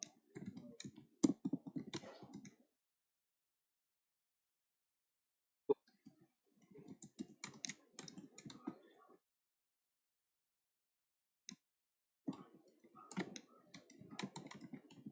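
Java code is typed on a computer keyboard in three separate bursts of rapid clicking keystrokes, broken by silent pauses and an occasional single key tap.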